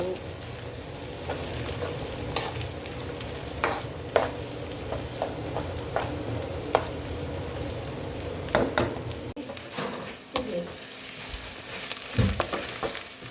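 Green chilies fry in a pan of oil for a prawn pickle, a continuous close sizzle punctuated by scattered clicks and scrapes of stirring.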